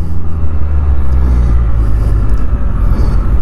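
A Can-Am Spyder three-wheeled motorcycle rumbles loudly and close by as it pulls in on a group ride, a continuous deep engine drone with slight swells and no speech.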